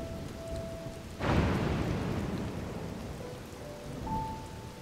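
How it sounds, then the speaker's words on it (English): Steady rain in the video game The Legend of Zelda: Tears of the Kingdom, a dense continuous hiss that swells suddenly with a heavier downpour, with faint tones drifting over it and no talking. "God, stop raining already."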